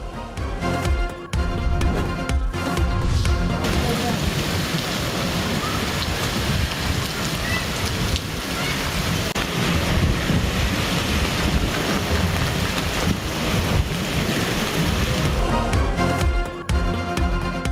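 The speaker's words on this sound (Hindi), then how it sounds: "मरी में मूसलाधार बारिश के साथ यालाबारी" Heavy rain with hail pours down in Murree, a dense, steady roar of water and pelting ice that holds loud and unbroken throughout, with some wind buffeting the microphone.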